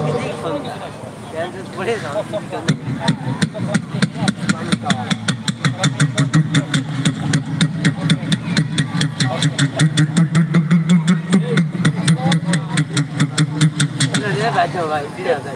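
A voice mimics a boat engine crossing the Atrai river, a rapid, rhythmic mechanical putter held close and loud for about fifteen seconds.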